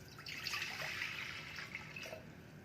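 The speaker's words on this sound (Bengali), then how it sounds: "প্রেসারে জল দিয়ে দেবো।" Water runs steadily into a pressure cooker holding about 150 grams of washed pigeon pea lentils (arhar dal) for sambar, a soft continuous trickling splash at close range with no talking.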